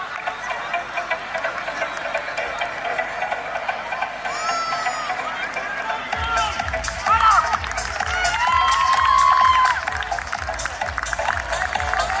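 Parents cheer as students run a relay race on a school sports day, a steady crowd roar that swells louder toward the end, with scattered shouts and whistles over continuous voices.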